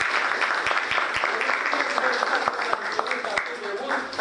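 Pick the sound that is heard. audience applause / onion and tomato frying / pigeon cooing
audience applause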